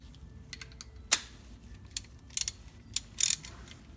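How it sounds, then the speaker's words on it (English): A ratchet tightening jam nuts on a rear axle of a 1988 GT, a handful of sharp, isolated clicks and short ratcheting bursts spaced irregularly over a quiet workshop background. "You just want to tighten those down enough to keep these from coming loose."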